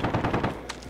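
Automatic gunfire in the video game Call of Duty Modern Warfare comes as a short, loud, dense burst of rapid shots lasting under a second.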